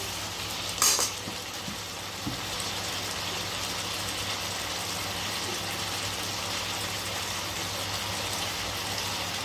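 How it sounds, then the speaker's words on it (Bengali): Cumin powder is stirred and fried in a pan, giving a steady, even sizzle throughout with a brief clink of a utensil near the start and no speech. "একদম নাড়াচাড়া দিয়ে একটুখানি ভালো করে ভেজে"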